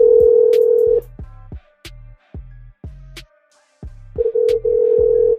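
Phone call in progress with a steady electronic ringing tone at the start, then a series of short pulsed beeps and clicks, and the ringing tone returning in broken bursts at the end.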